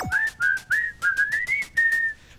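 A person whistles a short, bright melodic phrase of about eight quick notes, close and clear with a steady rhythm.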